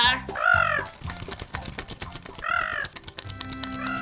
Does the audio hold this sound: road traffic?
no